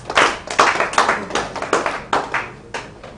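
Sparse clapping from a small audience after a call for applause at a live-streamed event, with about nine distinct claps or bursts in a steady, fairly close rhythm and no talking over it.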